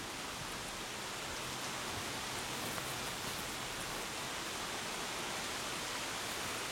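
Heavy rain falls continuously after six days of nonstop downpour amid flooding, a dense, steady hiss with no pauses, loud and even throughout.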